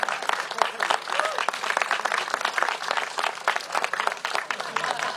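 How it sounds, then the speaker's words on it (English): Audience applause for Jonathan Mincer at a live San Francisco event on antisemitism with the mayor, a dense steady patter of many hands clapping throughout, moderately loud, with faint voices mixed in. "Let's give him a big round of applause."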